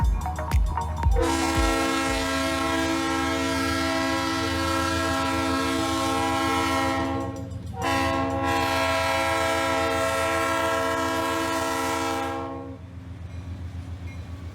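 A train rumbles past while its horn blares in a long sustained blast, briefly breaks, then sounds again before fading as the rumble continues.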